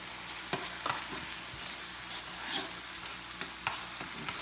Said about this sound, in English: Now let it sizzle a little bit.